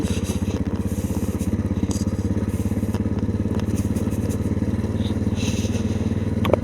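An adventure motorcycle rides slowly along a dirt road, its engine a steady close rumble, with gravel crunching and scraping under the tyres throughout.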